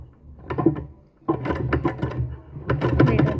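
A sewing machine stitches along a fabric edge during a beginner tailoring lesson on hemming, with short bursts of stitching separated by a brief pause, close and moderately loud.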